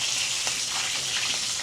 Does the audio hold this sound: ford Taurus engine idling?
no